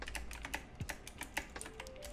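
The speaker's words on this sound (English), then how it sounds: "Can you hear my keyboard and mouse?" Computer keyboard and mouse clicking during a Skywars gaming session, rapid faint clatter of keys and clicks in a quick irregular run, quiet and close.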